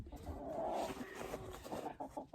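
A broody hen gives a short run of low, grumbling clucks close by, murmuring continuously for a couple of seconds.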